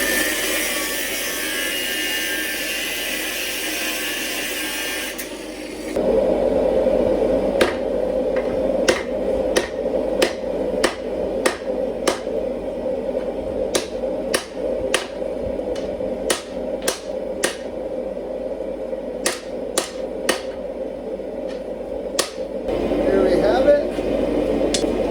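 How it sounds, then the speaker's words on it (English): Steel bar for Damascus forging is hammered straight on an anvil with a long series of sharp, ringing metallic strikes at an irregular, unhurried pace. A roaring forge sits under the first few seconds. "I'm going to straighten it out on the anvil and make a straight flat bar"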